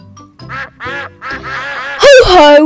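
Cartoon ducks quack in Peppa Pig's Golden Boots game, with several short bursts of quacking followed by a louder, brighter flurry near the end, all close and clear, with a little talk mixed in.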